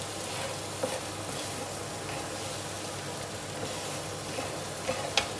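Egg fries in a pan alongside seafood and rice, a constant close sizzle broken by a few scraping stirs and light clicks of a utensil against the pan.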